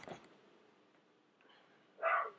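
A dog barks sharply once, loud and close, after a quieter yelp at the start, indoors in a home with no talking.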